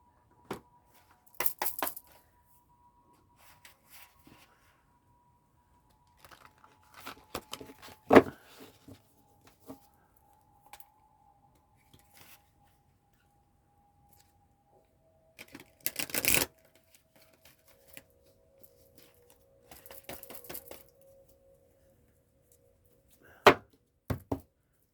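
Large tarot cards being shuffled by hand in scattered bursts of papery riffling and soft slaps, with quiet gaps between and one sharper knock near the end.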